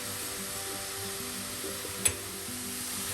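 Spinach stir fry (palak thoran) sizzles steadily while being stirred on a high flame as the water cooks off. A soft continuous hiss carries a single sharp utensil clink midway, with a faint low hum beneath.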